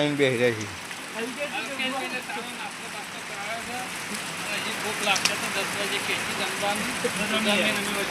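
Steady rain patters on surfaces as a continuous hiss throughout, with people talking over it.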